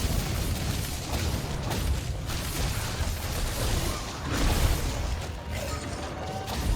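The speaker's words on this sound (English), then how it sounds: "Cannons up above should be able to hit his head." Cannons fire at a large monster in Monster Hunter: World, their booming blasts buried in a dense, loud wash of game combat noise with crashes and mechanical clatter throughout.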